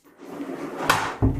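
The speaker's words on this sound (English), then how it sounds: "Here is the drawer for the vacuum cleaner." A vacuum-cleaner storage drawer in a small apartment's built-in cabinetry slides open or shut, with a brief clunk midway and a firmer thump at the end, close and fairly quiet.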